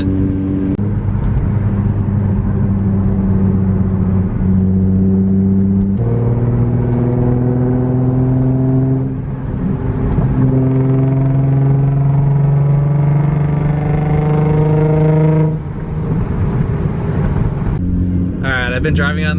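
A Nissan 350Z fitted with Fortune Auto coilovers drives along, its engine droning loud and close as the pitch climbs through several gear changes, with steady road rumble underneath.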